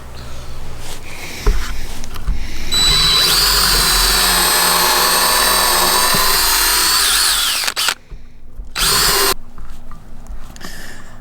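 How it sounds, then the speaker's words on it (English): A power drill with a 1/4 inch bit bores a pilot hole for hook eyes on an archery target stand, a loud steady whine for several seconds that stops abruptly, followed by a short second burst. "Got a 1/4 drill bit to start the pilot hole for these eyes"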